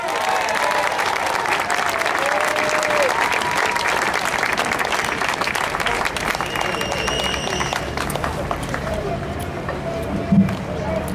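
Sustained audience applause fills a hall at a San Francisco religious freedom gathering as speaker Enrique Morales is welcomed, a dense, steady wash of clapping with crowd murmur that runs nearly the whole time.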